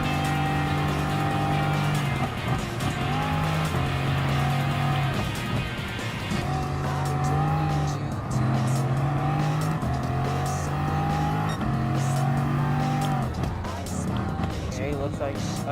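Race cars in Gran Turismo Sport scream past with high engine whine, gear shifts and rising and falling revs, loud and continuous, with a voice speaking over the racing.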